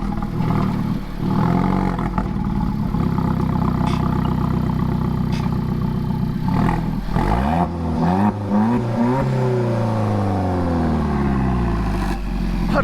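An Alfa Romeo 4C fitted with a centerline exhaust revs hard, its engine note climbing and falling in repeated throaty sweeps, loud and close, with no talk over it.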